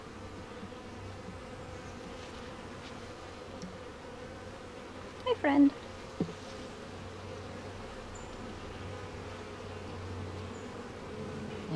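Honeybees hum steadily around a hive being inspected a few days after a split, a soft continuous buzz with a brief louder knock partway through and a short spoken greeting.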